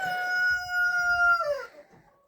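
A rooster crows once inside a chicken coop, a long clear call that holds and then slides down and fades, with faint clucking and scratching from other birds beneath.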